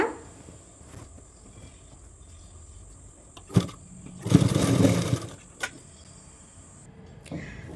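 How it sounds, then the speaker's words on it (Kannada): A sewing machine stitches around the edge of a saree petticoat, a short run of rapid whirring near the middle, with a few clicks before and after against a quiet background. "ಮೊದಲು ನಾನು ಈ ರೀತಿ ಸ್ಟಿಚ್ ಹಾಕೊಂಡ್ಬಿಡ್ತೀನಿ ಸುತ್ತಲೂ ಕೂಡ"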